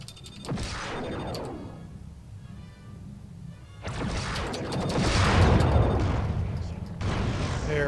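Starship weapon fire in Star Fleet Command, a MIRV launch: two loud bursts of booming, crackling discharge with decaying tails, separated by a quieter gap, with a voice speaking at moments.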